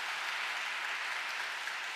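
Steady applause from a congregation at a young adults' Mass in Myeongdong Cathedral, Seoul, a dense even clapping that holds at moderate volume throughout with no voices over it.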